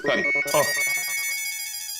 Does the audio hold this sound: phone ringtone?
yes